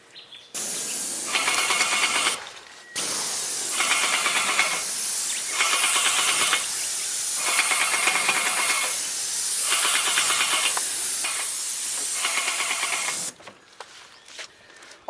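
Spray gun laying down paint in several long continuous bursts with brief pauses between them, a loud close hiss of compressed air and atomised paint, used for DIY spray painting.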